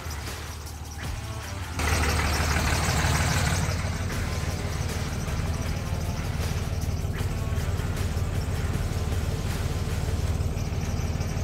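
A Cummins 12-valve diesel engine idles nearby, loud and steady with a rough, rumbling clatter, after a quieter opening couple of seconds.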